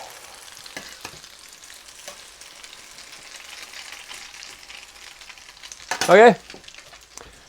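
French toast cooking sugar side down in a pan for a rum-sauce breakfast, giving a soft, steady sizzle beneath a brief spoken word and a short louder clatter near the end.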